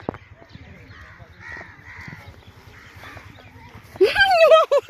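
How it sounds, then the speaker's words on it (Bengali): A crow caws loudly near the end, several harsh calls following one another, after a stretch of background chatter and footsteps at a tourist site in Fatehpur Sikri. "কাক কোথায়?"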